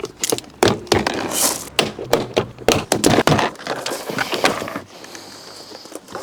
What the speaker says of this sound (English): God, I hate removing door cards.